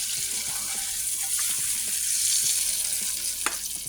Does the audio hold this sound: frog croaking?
no